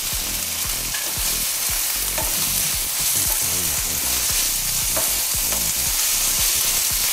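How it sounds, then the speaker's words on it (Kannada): Chopped capsicum frying in a pan for paneer pepper masala, a loud, dense, continuous sizzle with crackling and occasional stirring, close up and without talk. "ಸೊ ಇದು ಒಂದು 2 ನಿಮಿಷ ಫ್ರೈ ಮಾಡೋಣ. ಯಾಕೆಂದರೆ ಕ್ಯಾಪ್ಸಿಕಮ್ ಸ್ವಲ್ಪ ಬೇಯಬೇಕು."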